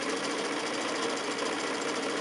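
A sewing machine runs steadily while stitching a quilt seam, a fast even mechanical whir and patter held at constant loudness, close by with no talking.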